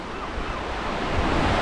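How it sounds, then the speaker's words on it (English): Sea waves wash steadily along the shore at Tenby harbour as the tide goes out, a broad continuous surf hiss that swells slightly louder toward the end, with no voices. "But the tide's actually going out, which isn't too bad because it's leaving nice little pools of water for Ffion to enjoy"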